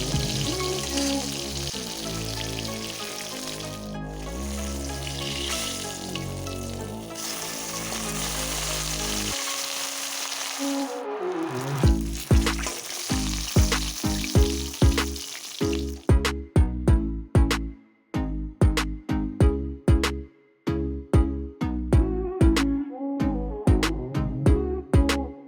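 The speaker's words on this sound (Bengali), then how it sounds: "এরপর বাকি মাছটা কষে একইভাবে ভেজে নেব।" Masala fish deep-frying in hot oil, a steady sizzle that runs under background music for the first half, then a busier crackle with sharp pops and spatters toward the end.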